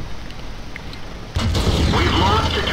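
The FV215b 183 tank gun fires in the World of Tanks video game, one sudden loud boom breaking over quieter engine rumble and rolling into a sustained noisy tail.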